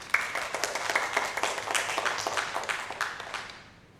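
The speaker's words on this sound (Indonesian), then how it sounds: "Tepuk tangan." A group of teachers claps together in a room, a brisk burst of fairly close handclaps with a few louder individual claps that fades away over the last half second.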